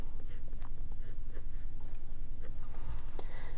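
A pen draws contour lines of an apple on sketchbook paper, making faint, close scratchy strokes in short irregular bursts over a low steady background hum.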